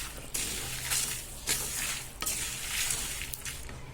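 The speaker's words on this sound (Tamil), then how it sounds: "இது எல்லாத்தையும் மிதமான தீயில தான் நம்ம வறுத்து எடுக்கணும்" Chana dal dry roasting on a medium flame for sambar powder, a soft scratchy rustle with periodic louder scrapes as the lentils are stirred in the pan, close and with no talking.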